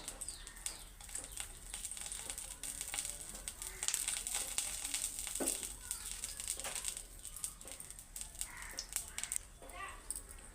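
A spoonful of oil heats for tempering in a pan, giving a faint, crackly sizzle with scattered pops, while a voice talks over it.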